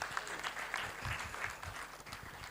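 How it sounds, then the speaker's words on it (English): Faint, steady clapping from a crowd at a college graduation and induction ceremony, a soft continuous patter heard from a distance. "Give yourself a clap at them"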